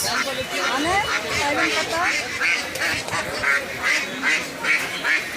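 Native ducks quack repeatedly in close, lively bursts at a crowded poultry market in Sirajdikhan, Munshiganj, over a steady hubbub of people chattering.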